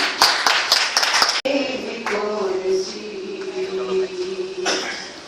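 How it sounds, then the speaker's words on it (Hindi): An audience at a senior citizens' day celebration breaks into brisk clapping that stops abruptly, followed by a voice over a sustained musical tone with scattered claps returning near the end. "जोरदार ताली।"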